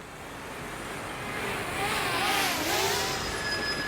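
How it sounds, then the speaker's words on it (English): Road traffic passing by nearby, a single vehicle swelling from a soft approach to a loud, broad rushing hum as it goes past, alone with no talk. "let some of this traffic go by first"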